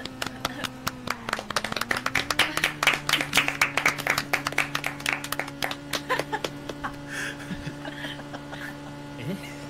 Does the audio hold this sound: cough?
no